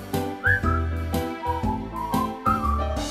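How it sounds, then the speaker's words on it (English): Rugby fans in the stands at Twickenham for the 2018 Premiership match between Exeter Chiefs and Saracens whistle along to a sung crowd tune. Rising and gliding whistled notes ride over dense massed singing and music throughout. "just purse your lips and whistle, that's the thing"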